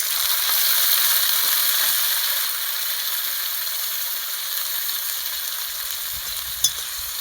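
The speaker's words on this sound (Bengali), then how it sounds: "পেঁয়াজ ভাজা ভাজা হয়ে গিয়েছে। এবার আমি এখানে আদা রসুন পেস্ট দিয়ে দেবো।" Ginger garlic paste hitting browned fried onions in a pan for banana flower curry, a steady close sizzle and hiss that eases slightly partway through, with a small clink near the end.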